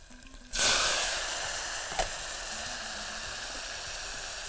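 Onion and tomato drop into hot oil with bay leaf, fennel seeds, mint and spices, bursting into a sudden loud sizzle that slowly eases into a steady hiss, with a single clack of a utensil.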